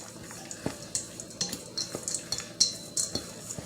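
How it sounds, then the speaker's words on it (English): Utensil stirring seasoning, with sage among the herbs, into a vegetarian dressing, heard as repeated close clinks and scrapes against a bowl in an irregular rhythm, with no talking. "you stir the seasoning in first"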